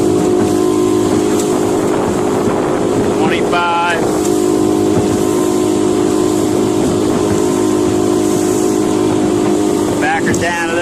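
A Carolina Skiff J16 motorboat runs at a cruising speed of about 23, with a loud, steady engine drone and hull rush lasting the whole time.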